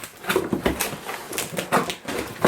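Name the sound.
ripping open a cardboard box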